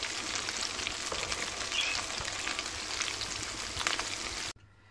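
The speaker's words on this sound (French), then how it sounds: "donc là, on va les faire frire" Potato balls fry in oil with a dense, even crackling sizzle, close and steady throughout, cutting off abruptly near the end.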